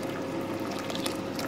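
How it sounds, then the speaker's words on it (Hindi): Water pours steadily into khichdi in a cooking pot, a continuous close splashing fill with bubbling liquid throughout, loud and alone without talk. "अब इसमें हम पानी डालेंगे"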